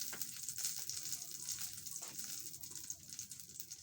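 Food frying hard in cooking oil for a Filipino snack, a dense continuous sizzle with steady crackle held up close for several seconds, no voices.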